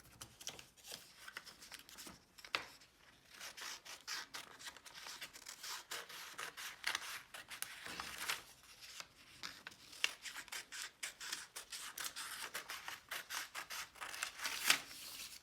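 Scissors snip paper out of a packet page, a quick series of crisp cuts with rustling of the page in between, close and fairly quiet.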